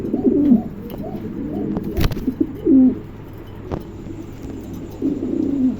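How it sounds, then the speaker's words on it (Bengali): Pigeons coo in low, throaty bursts at a wholesale pigeon market, several soft rolling calls close by over a faint background hum. "চমৎকার একটা কবুতর"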